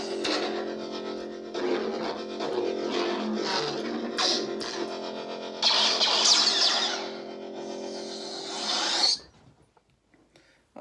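Crossguard lightsaber sound font with a secondary ignition for the staggered side blades: a distorted, crackling hum that swells and flares with rising swings, then cuts off abruptly near the end.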